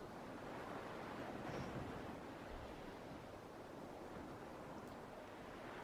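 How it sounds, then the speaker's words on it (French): Steady broadband wash of ocean surf rolling continuously, soft and even with no distinct breaks, like waves heard from a shoreline. "le bruit des vagues continue de te guider vers le repos"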